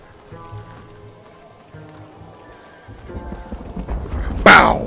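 Horse in the Red Dead Redemption video game gives a loud, high whinny near the end, after hoofbeats and game noise build up, with someone talking over the action.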